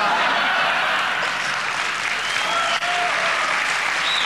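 Dense, steady applause from a studio audience fills the air for Hans-Hermann Thielke, a broad even roar of hands that holds without a break.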